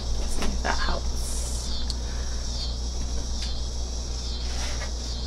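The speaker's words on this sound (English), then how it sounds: "These cicadas are awful." Outdoors during cooking, a steady high-pitched cicada drone fills the air, continuous and fairly loud, with a few brief clicks and rustles over a low background rumble and no speech.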